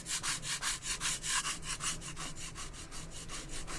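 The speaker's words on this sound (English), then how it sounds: "So we can scrape off some areas." Dried paint being scraped off a decorative home decor piece made with moulds: a steady run of quick, rhythmic rasping strokes, close and fairly loud, repeating evenly without any talk.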